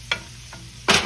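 Bacon and onions sizzle in a pan as they are stirred, giving a few short scraping bursts over a low, steady frying hiss.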